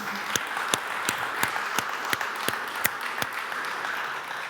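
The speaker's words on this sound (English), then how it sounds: "So I think they deserve a big round of applause." Conference audience applauding after a presentation, with sparse, distinct claps standing out at a fairly even beat over a softer bed of clapping through the whole stretch.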